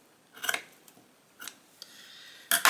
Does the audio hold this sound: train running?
no